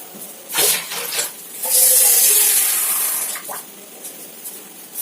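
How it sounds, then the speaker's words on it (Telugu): Washing water is poured out of a kitchen vessel after rinsing, giving a few short splashy bursts and then a longer, nearby gush that fades into quieter trickling. "ఈ వాటర్ అయితే పారిపోసేద్దాం."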